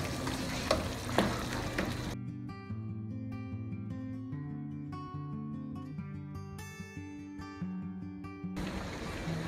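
Bottle gourd and mutton sizzle and are stirred in a pan, audible at the start and end, while steady tonal background music covers most of the middle.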